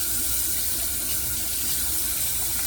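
Water runs steadily from a tap with a constant hissing splash, close and unbroken throughout.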